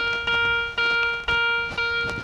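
Metal detector beeping in tall grass while detecting in a field, a loud tonal beep with bright harmonics repeating in four evenly spaced pulses, each with a sharp attack and slow fade.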